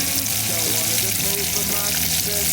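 Bass fillets fry in a pan at a lakeside camp, with a loud, dense, continuous sizzle close by and a low hum running underneath.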